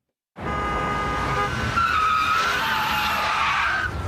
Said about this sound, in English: What you're hearing isn't a traffic accident. It's not panic braking.